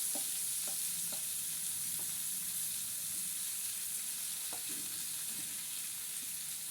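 A tomato fries in oil with onions in a pan, giving a constant soft sizzle broken by several light scraping taps of a spoon stirring.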